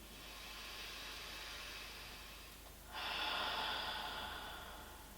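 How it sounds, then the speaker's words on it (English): One slow, deep breath drawn in through the nose, then let out through the mouth, soft and airy, close and quiet with no talking, during a calm knee-friendly yoga session at home. "take a deep breath in through the nose, and then out through the mouth"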